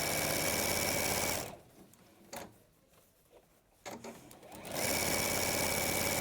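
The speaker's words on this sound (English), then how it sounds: "So now I'm just sewing the lining, and it's a 1/4 of an inch seam." Sewing machine stitching a quarter-inch seam on a bag lining, a fast mechanical whirr that stops for a couple of seconds of near quiet with light handling noises, then starts up again.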